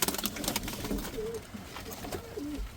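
Pigeons coo softly in low, rolling calls amid a busy background of fluttering and rustling, with several birds close by in a loft of adults and young.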